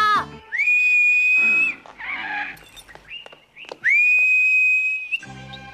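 A sharp whistle, blown to call a donkey, sounds twice in long sustained blasts with bending pitch, loud and close, separated by scuffling noises and brief animal sounds.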